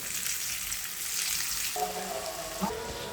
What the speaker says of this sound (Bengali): আলুটা আমি ভেজে সবসময় রান্না করি ভেজে নেবো